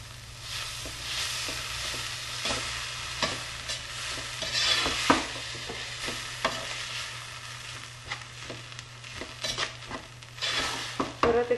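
Vegetable pizza filling stirred in a pan with tomato sauce and oregano after the gas is turned off: repeated spoon scrapes and clinks against the pan over a soft sizzle, close and steady, with no talking.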